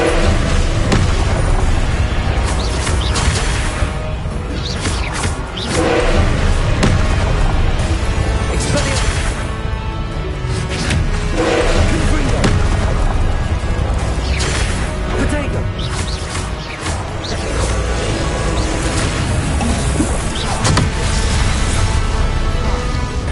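Repeated Confringo explosive spell blasts boom in the video game Hogwarts Legacy, loud and dense over constant combat noise, with voices calling out at times.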